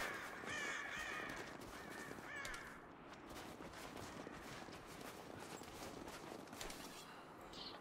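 Birds caw faintly in the Rise of the Tomb Raider video game, a few short calls early on over a dense, crackling ambient wash with soft thuds like footsteps.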